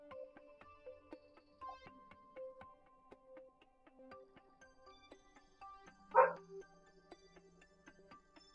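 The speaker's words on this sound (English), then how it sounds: "neighbor dog from down the street out gallivanting." A neighbor's dog barking somewhere down the street, faint and distant, with one sharper bark standing out briefly amid a quiet background of scattered small sounds.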